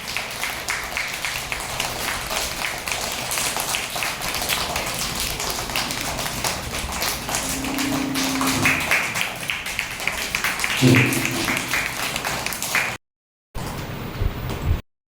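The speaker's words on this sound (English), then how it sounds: "Clap your hands. Clap, clap, clap, clap." A group of children claps hands in a rapid, steady patter that fills the room at a kids' Doctors Day celebration, with a brief pause near the end.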